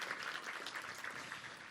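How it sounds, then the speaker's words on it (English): Warm round of applause for new members at a Chamber of Commerce morning business event, a steady wash of many hands clapping at moderate distance, fairly soft and continuous throughout. "another warm round of applause for our new members"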